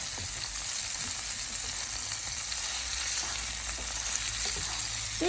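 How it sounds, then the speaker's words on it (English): Prawns fry in a hot pan for a stir-fry with broccoli and garlic sauce, giving a loud continuous sizzle and hiss with faint stirring scrapes underneath. "We need to stir it until it's pink."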